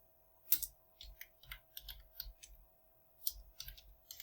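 Linux commands are typed on a computer keyboard in quick, irregular bursts of close, crisp key clicks, with a couple of sharper, heavier keystrokes standing out.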